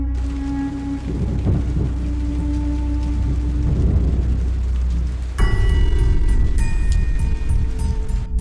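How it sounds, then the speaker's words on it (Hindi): Steady heavy nighttime rain roars throughout, with a deep low rumble underneath and a sudden louder, brighter surge partway through. "अचानक से तेज बारिश होने लगती है"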